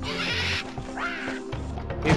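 Cartoon birds squawk and quack in the Madagascar: Escape 2 Africa video game, a quick run of nasal calls over busy game music, with no talk.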